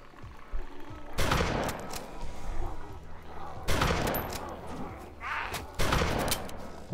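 Bursts of gunfire in the survival game DayZ, with dense volleys of shots in several loud clusters and quieter gaps between them.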